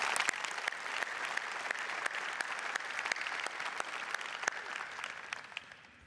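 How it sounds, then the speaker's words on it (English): An audience at a North Carolina governor's inauguration applauds Lieutenant Governor Jim Gardner, steady dense clapping filling the room throughout and easing off slightly at the end. "Please give Jim Gardner a round of applause."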